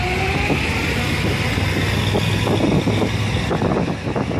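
Loud, steady mechanical rumble of engines and machinery at a busy construction site fills the air, with scattered clanks and knocks over the continuous drone.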